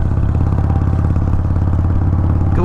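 A Harley-Davidson 883 Hugger motorcycle runs steadily, its engine throbbing loud and close with a continuous low rumble and mechanical clatter. No voices are heard.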